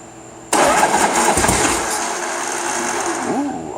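A freshly rebuilt carbureted engine cranks and catches abruptly on its first start, then runs loud and rough at a fast, steady idle close by.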